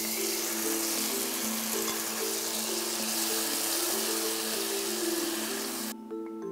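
Tomatoes hitting a hot pan of oil for brodetto alla termolese, a steady loud sizzle and hiss with faint tonal hum underneath, cutting off abruptly near the end.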